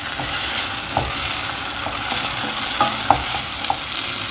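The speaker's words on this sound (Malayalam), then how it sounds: "ഇതിലേക്ക് എടുത്ത് വെച്ചിരിക്കുന്ന തക്കാളി, പച്ചമുളകും കറിവേപ്പിലയും കൂടെ ചേർത്ത് കൊടുക്കാം. ഇതൊന്നുകൂടി നല്ലോണം വഴറ്റി കൊടുക്കണം." Tomatoes, green chillies and curry leaves sautéing in oil for egg curry, a loud, close, continuous sizzle with a spoon scraping and stirring at a steady rhythm throughout.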